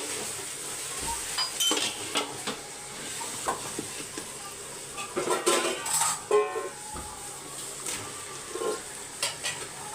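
Chicken stir-fried in a pan with tomatoes: a steady sizzle with repeated scraping stirs and occasional light clinks of a utensil against the pan, close by and with no talking.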